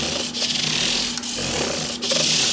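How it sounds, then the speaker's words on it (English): Hand sanding a 1991 PRS Custom 24 guitar body with 1000 grit sandpaper, a close, continuous dry rasping broken by brief dips roughly every second as the strokes change direction. "1000 grit sandpaper"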